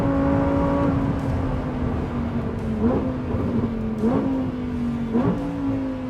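A Lamborghini Huracan's V10 engine roars loudly up close on a race track, revving higher through several gear shifts in a steady, rhythmic climb.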